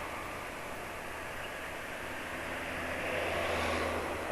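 A motorcycle engine fitted with aftermarket piston rings idles steadily, a continuous low, broad rumble with faint hiss that swells slightly toward the end, with no voices.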